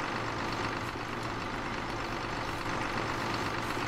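A tractor engine idling and running steadily in the farming video game Farming Simulator 2015, a continuous low droning rumble with no pauses.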